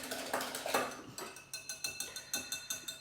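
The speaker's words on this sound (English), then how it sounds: "Give it a good whisk then. Get it off the sides," Mochi batter whisked briskly in a bowl, a quick regular series of metallic clinks and scrapes against the sides, close and clear with no talk.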